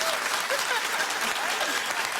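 A studio audience claps at a talk show, dense steady applause filling the room for a couple of seconds with no voices on top.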